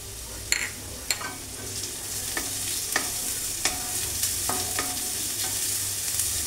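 Something frying in a pan until lightly browned, a steady close sizzle broken by sharp, evenly spaced spatula clicks against the pan.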